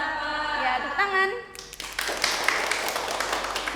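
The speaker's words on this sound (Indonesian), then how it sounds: "ya tepuk tangan" A voice talks at first, then a group claps hands together in a dense burst of applause that continues to the end.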